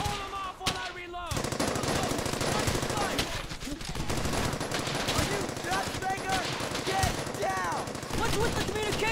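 Machine gun fire in the Brothers in Arms: Hell's Highway video game rattles in continuous, loud bursts over battle noise. Shouted voices break in now and then.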